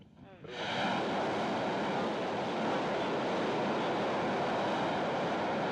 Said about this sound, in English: there you can see the engine starting to fire, ramping up